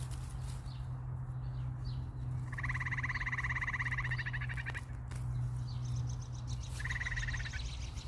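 An unidentified dark-colored bird gives a few rapid, trilling call bursts outdoors, moderately near, over a steady low hum and faint background ambience.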